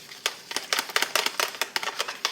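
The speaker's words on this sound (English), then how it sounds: "I just whisk it up real good." Quick, light rhythmic clinking and scraping of a whisk beating a chicken broth sauce mixture in a bowl, steady and close.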